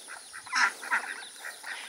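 Farm ducks quack in a series of short, nasal calls, fairly faint and a little distant, scattered irregularly with nobody talking.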